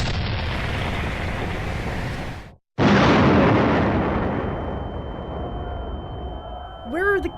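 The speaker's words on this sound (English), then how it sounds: "Where are the cannons?" Cannon fire in a Minecraft medieval fantasy battle: loud broadband booms fill the opening seconds, cut off by a sudden gap, then a second heavy blast that slowly fades into a rumbling tail, with a faint voice near the end.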